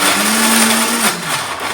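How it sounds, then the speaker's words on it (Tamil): An electric mixie grinder coarsely grinds soaked chana dal with no water added. Its loud, steady motor whirr runs close up with no talk, and the pitch drops slightly near the end. "இதை மிக்ஸி ஜாரில் போட்டு கொரகொரப்பாக அரைச்சிக்கலாம்."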